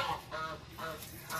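Geese honk in a backyard, with a few close, nasal honks repeating in quick succession.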